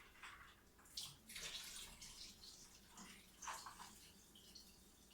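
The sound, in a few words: pouring excess ice water out of a container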